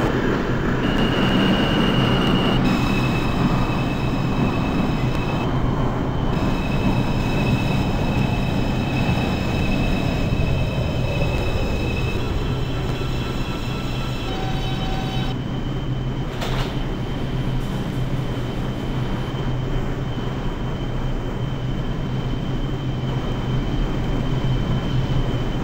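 A New York City 2 line subway train in the openBVE simulator runs along the tracks with a loud continuous rumble and high metallic whine, easing off slightly midway, with brief squeals and clanks.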